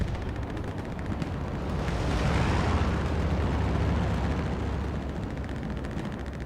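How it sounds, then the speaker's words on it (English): Bombing-run explosions in Hell Let Loose on the Foy map, a sustained rumbling wall of distant blasts and scattered gunfire that swells midway and rolls on steadily, with no talk over it. "This is the final bombing run, perhaps."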